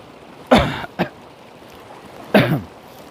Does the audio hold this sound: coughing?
yes